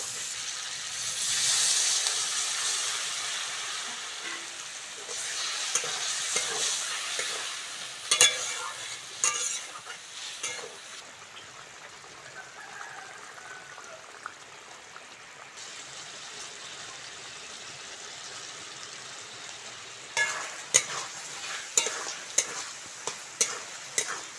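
Spice masala for a Bengali papad curry with potatoes is stirred and fried in a pan, a steady hissing sizzle broken by repeated sharp scraping strokes of the spatula, close up and without talk.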